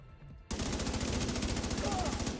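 Rapid gunfire in a video game, a fast even stream of shots that starts abruptly after a short quiet lead-in and keeps going without a break, fairly loud.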